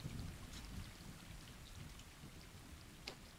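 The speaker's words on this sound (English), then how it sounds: "this is a heavy rain weather" Heavy rain with a low thunder rumble in the video game Stray, a quiet, dense, steady wash of rainfall with deep rumbling underneath and a faint patter of drops, no voices.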